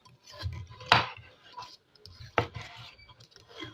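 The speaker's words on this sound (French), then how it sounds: "je vais couper le poivron, je pique comme ça et ça me permet de couper" A knife cuts through a bell pepper, two sharp crisp strikes against a cutting board between quieter handling noises, close and fairly soft.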